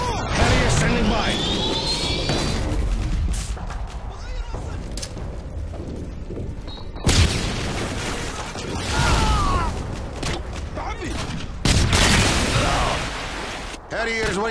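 A Harrier jet airstrike in Modern Warfare 2 thunders through game combat, with loud jet roars and sweeping engine whines over gunfire and explosions, and in-game voices calling out over the din.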